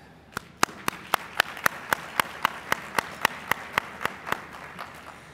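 Measured clapping at a mayors' climate protection luncheon, roughly eighteen crisp claps in a steady, unhurried rhythm, close and clear against a quiet hall.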